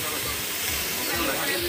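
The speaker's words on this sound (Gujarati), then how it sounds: "આ શાક વઘારે" Vegetable curry hits hot oil in a village kitchen, giving a loud, steady sizzling hiss throughout at close range, with faint background voices.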